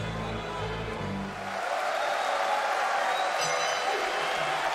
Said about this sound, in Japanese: 大歓声の中ラストラウンド